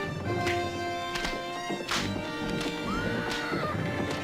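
A horse with a white stripe down its nose whinnies loudly in a television drama scene, with several shrill neighs and clattering hits over a dense music score.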